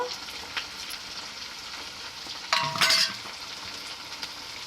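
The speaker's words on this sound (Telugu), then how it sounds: "వంకాయ ముక్కలు వేసి ఇలా బాగా వేయించుకోవాలి" Brinjal pieces frying in a pan over medium flame, a soft continuous sizzle with a brief louder burst of hissing and utensil scraping midway.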